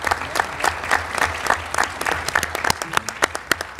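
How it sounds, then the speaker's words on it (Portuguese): Applause from an audience at a round-table session, a burst of many hands clapping in a lively, uneven patter that thins into scattered individual claps toward the end. "Salva de aplausos ao Daniel."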